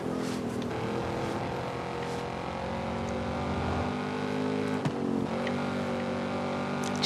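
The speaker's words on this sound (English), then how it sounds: "you can just hear the sound of your engine like bouncing off the wall and coming back at you" A steady video game car engine drone with a hollow, reflected quality, echoing off a nearby rock wall, holding a fairly constant pitch with slight rises.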